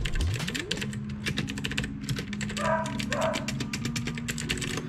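Rapid, clicky keystrokes on a Gigaware K550 budget mechanical gaming keyboard with blue switches, typed continuously up close, with faint background tones and what may be a dog in the distance.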